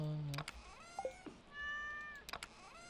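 In the farming video game Stardew Valley, a cat meows several times in short, clear mews amid quiet game sounds, with no talking.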